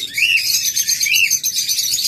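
Pet lovebirds, cockatiels and budgerigars in a bird shop chirp and tweet continuously, several bright, close calls overlapping with sharp rising whistles.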